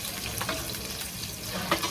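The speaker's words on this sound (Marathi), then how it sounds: "तडतडायला लागलं ना" Cumin seeds crackle and sizzle steadily in hot oil, a dense continuous frying hiss with occasional sharper pops.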